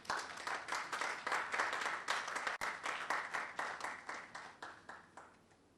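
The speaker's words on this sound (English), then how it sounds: "Another round of applause for him." An audience at a National Science and Maths Quiz balloting event in Ghana breaks into applause, a lively burst of many hands clapping that swells, holds, then gradually thins and fades out.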